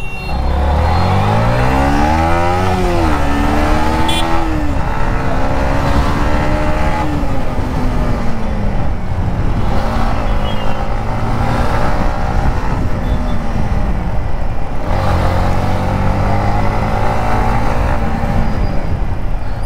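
A fully modified Yamaha MT15 motorcycle pulls away, its engine rising through a loud, close rev, then dropping back and surging again in several waves of acceleration.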